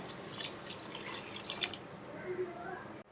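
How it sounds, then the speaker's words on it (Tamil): Water is poured into a pot of sambar with cooked lentils and tomato, a faint splashing trickle in a home kitchen, with a brief clatter at the end. "நம்ம சாம்பாருக்கு தேவையான அளவு தண்ணி ஊற்றிக்கலாம்."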